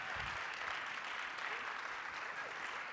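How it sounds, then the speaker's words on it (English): A conference keynote audience claps steadily for the whole stretch, a dense, even patter of many hands, fairly distant and soft. "You can keep clapping. This is it, keep clapping,"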